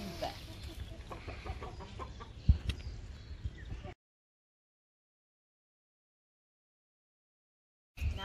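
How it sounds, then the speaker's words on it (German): Chickens cluck and fuss in a steady, busy chorus, close by, for a few seconds before falling silent; a brief burst returns at the very end. "Die Hühner"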